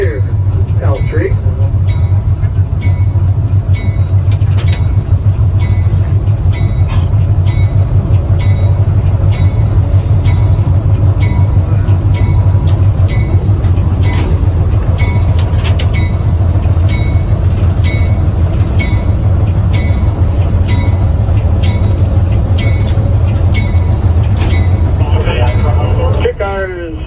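L&PS railway car 14 runs along its home rails with a loud, steady low rumble, regular clicking wheel beats and faint squeals over nearly half a minute, close by throughout.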